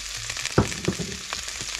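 Dandelion greens stir-fried with oyster sauce over high heat give a steady close sizzle, broken by a few scraping stirs of the pan.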